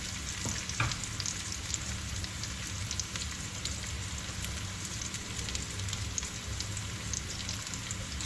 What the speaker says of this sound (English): So we're just waiting for the onions to get on the browner side